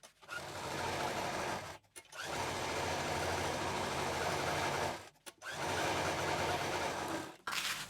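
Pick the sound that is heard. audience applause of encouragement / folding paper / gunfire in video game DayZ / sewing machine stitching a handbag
sewing machine stitching a handbag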